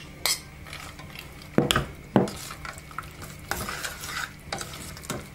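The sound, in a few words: stirring fried cashews and coconut into chakkara pongali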